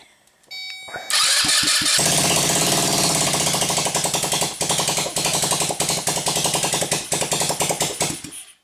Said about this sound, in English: we're going to try first cold start on 93 octane